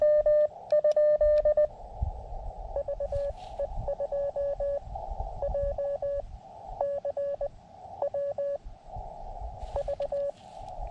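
Morse code CW tones sound from an amateur radio during a summit contact: clear, steady beeping dits and dahs in irregular groups over a faint hiss, fairly loud throughout.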